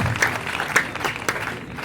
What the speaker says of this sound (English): Come on, everybody clap for John.